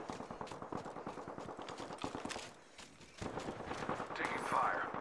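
Rapid gunfire in the battle royale shooter Apex Legends, dense bursts of shots crackling close and loud throughout, briefly thinning before resuming, with a game voice speaking over it.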